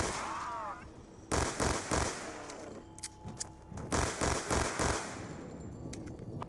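Pistol gunfire in the Call of Duty zombies map Mob of the Dead, heard as several loud, sharp shot bursts in irregular clusters with brief gaps between them.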